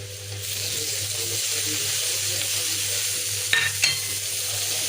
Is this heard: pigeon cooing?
no